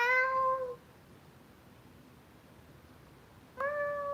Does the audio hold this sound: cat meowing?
yes